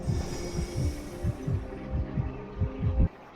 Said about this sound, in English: I suddenly just heard a heartbeat begin beating in my ear.